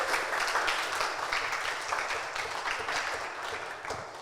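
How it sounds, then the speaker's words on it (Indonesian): Audience applause at a televised Islamic preaching competition, a steady wash of many hands clapping at moderate volume that gradually thins toward the end, with no clear talk. "Tepuk tangan sekali lagi untuk Kak Reva."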